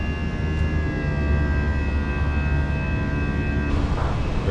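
Airliner jet engines throttling up for climb in the Fenix A320 flight simulator: a steady, loud, close turbine roar with a sustained whine, brightening and hissing near the end.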